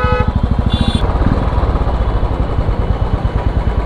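A Royal Enfield Classic motorcycle exhaust thumps out a close, loud, rapid, evenly pulsing beat as the engine runs steadily throughout.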